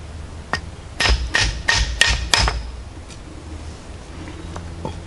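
Sharp hammer blows strike Vanadis 4E tool steel in an impact and shock test, about six loud, evenly spaced metallic hits in a quick burst followed by quieter room noise.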